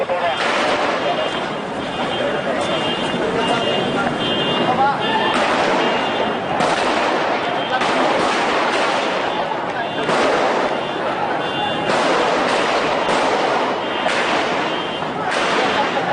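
Explosions and gunfire during the Sarinah attack in Jakarta, sharp loud bangs and cracks recurring irregularly over a constant dense din of noise, with agitated voices talking throughout.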